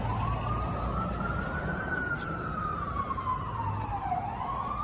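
A wailing police car siren rises and falls in long sweeps over a steady rumble of traffic, fairly loud and near.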